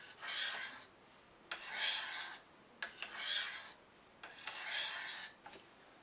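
Knife blade stroked up and down against the ceramic rods of a Spyderco Sharpmaker, five distinct rasping passes in a steady rhythm, close and clear with short quiet gaps between them.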